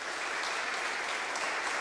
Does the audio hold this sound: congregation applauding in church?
yes